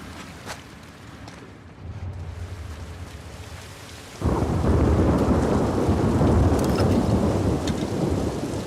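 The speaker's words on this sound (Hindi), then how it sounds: "ऐसा लग रहा है कि तूफान आने ही वाला है।" A thunderstorm in The Last of Us Part 2 video game: a low rumble of thunder and light rain give way to a sudden loud, steady downpour that roars on through the second half.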